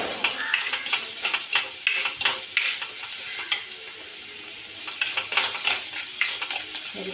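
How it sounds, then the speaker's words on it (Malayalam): Dried red chillies, green chillies, ginger and shallots fry in coconut oil with popped mustard seeds, a steady close sizzle broken by repeated scraping stirs of a spoon against the pan, no voices. "വറ്റൽമുളക്, പച്ചമുളക്, ഇഞ്ചി, ചെറിയുള്ളി ഇതെല്ലാം ഇട്ട് നല്ലോണം വഴറ്റിയെടുക്കാം"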